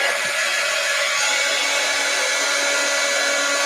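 A heat tool or hair dryer blows steadily at close range, a loud continuous whooshing hum, while drying gold paint on a trading card.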